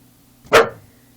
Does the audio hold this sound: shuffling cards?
no